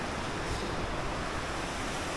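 Fast-flowing, clean glacial mountain river water near a Geiranger road embankment, a steady broadband rush that holds level and close throughout with no voices.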